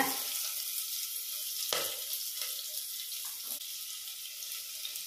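Onions and whole spices frying in ghee in a cooker for a Punjabi black chana curry, a steady soft sizzle with a few stirring clinks, heard alone.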